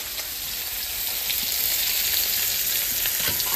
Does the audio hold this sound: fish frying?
yes